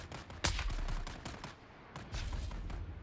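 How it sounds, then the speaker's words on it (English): Gunfire in the video game Dune Awakening, a quick run of rapid shots with one sharp louder crack near the start, fairly faint under game ambience. "Start shooting, I'll get him."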